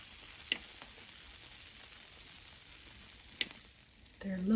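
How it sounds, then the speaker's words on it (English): Freshly baked cinnamon sticks just out of the oven sizzle with a soft, steady crackle close by, with a couple of faint clicks and a brief rise of noise at the end. "These just came out of the oven. Can you hear them sizzling?"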